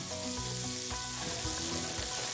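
Meat chops sear in a hot pan, a dense loud sizzle throughout with crackling spatter and a few stirring knocks, close up.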